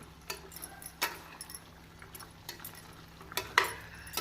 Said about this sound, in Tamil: இப்பொழுது குக்கரில் வேக வைத்த கறியையும் எலும்பையும் நாம் போட்டு மசாலாவுடன் நன்றாக கலக்க வேண்டும்